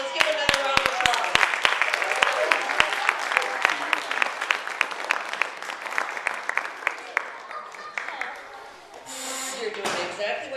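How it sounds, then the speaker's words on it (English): Audience applause after a performance, beginning with sharp, separate claps close by that thicken into steady clapping and then thin out, with talk mixed in toward the end. "Let's give another round of applause."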